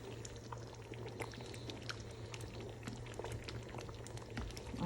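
Gajar ka halwa, a carrot pudding, bubbling and splattering in a pan, a faint steady simmer with scattered small pops, alone.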